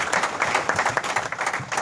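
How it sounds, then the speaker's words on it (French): Church congregation applauding during a sermon on marriage, a brief burst of dense hand clapping from many people filling the room, continuous for a couple of seconds. "Acclamons la parole du Seigneur."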